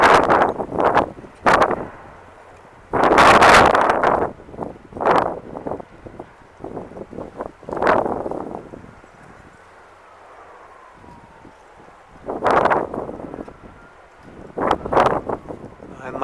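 Wind at a harbor buffets the microphone in loud, irregular gusts and rumbling bursts separated by quieter lulls, close and rough, with a person speaking at moments between the blasts.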